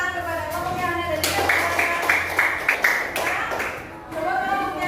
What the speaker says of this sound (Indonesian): Beri tepuk tangan kepada kelompok yang ada dari